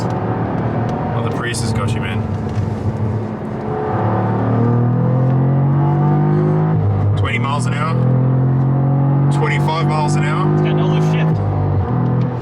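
A Cadillac CT4-V Blackwing accelerates through downtown streets, its engine rumbling loud and close with rising pitch sweeps as it pulls through the gears, while people talk over the engine noise at several points.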